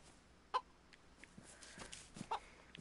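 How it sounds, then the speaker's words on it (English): A chicken in the survival video game DayZ gives a few short, fairly faint clucks spaced apart over a quiet ambient backdrop with light game noises. "I hear a freaking chicken. It's a chicken!"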